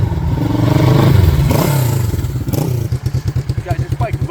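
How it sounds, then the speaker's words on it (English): A 1966 Honda CB450 K0 Black Bomber motorcycle engine revs up and pulls away nearby, loud and throaty, then settles into a steady rhythmic thumping idle with some clatter. "Let me give you a quick riding demo"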